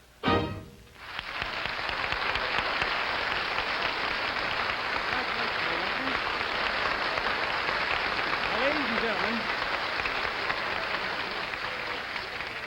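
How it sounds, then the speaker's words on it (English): A television studio audience at the 1958 Chicago Emmys breaks into sustained applause, a dense, even wash of clapping that starts abruptly and carries on steadily, with faint voices underneath. "I don't want to cut off applause"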